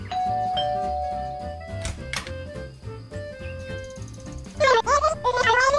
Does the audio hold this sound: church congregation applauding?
no